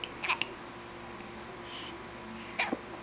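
A mother and a small child with the hiccups, with a couple of short, sharp vocal hiccup bursts near the start and another louder one near the end over a quiet room.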